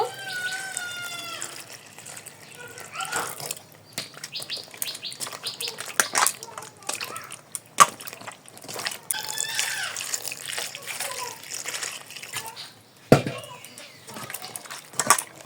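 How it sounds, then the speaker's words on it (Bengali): Ridge gourds being washed in water, with splashing, trickling and dripping, the handling loud and close at times, while birds chirp in the background. "ভালো করে ধুয়ে নিব"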